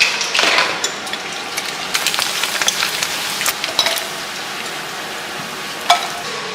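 Papad frying in a pan of oil left over from frying chicken, a steady close sizzle with crackling bursts and a sharp pop near the end, no voices.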